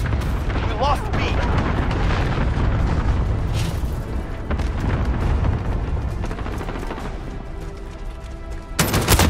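Cluster strike explosions in Call of Duty: Modern Warfare roll out as a dense, sustained barrage of booms and gunfire, loud and continuous, with voices briefly heard over the battle.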